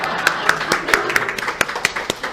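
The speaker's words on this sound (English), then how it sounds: "we will also give her a clap and a wave" Scattered clapping from a small luncheon audience, a dozen or so distinct sharp claps in an uneven rhythm, mixed with faint voices.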